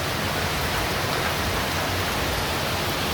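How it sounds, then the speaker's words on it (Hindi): Steady, dense rain falling outdoors in a residential area, a continuous loud hiss with no breaks or other sounds. "यहाँ बारिश हो रही है। और क्या बढ़िया आवाज़ होती है ना"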